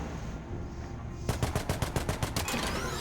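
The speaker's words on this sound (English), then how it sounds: "I can keep shooting and shooting and shooting all I want." Rapid automatic gunfire in Mass Effect 3: a quick run of sharp, evenly spaced shots over a low rumbling game background, loud and close, with no one talking.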